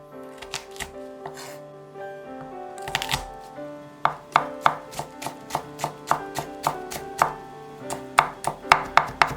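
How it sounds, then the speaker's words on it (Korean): Knife mincing four garlic cloves on a cutting board, a run of crisp, close chopping taps in uneven bursts that turns faster and more regular toward the end, over faint background music. "마늘 4개를 먼저 다져주고"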